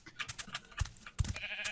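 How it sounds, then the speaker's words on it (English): Sheep bleating in the Minecraft video game, a few short wavering cries at close range over a busy, cluttered game soundscape with no talking. "I found the pink sheep"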